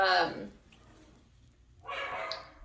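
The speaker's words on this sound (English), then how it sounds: "don't mind my dog" A pet dog barks, with two short bursts about two seconds apart, the first louder and closer, in a quiet indoor room.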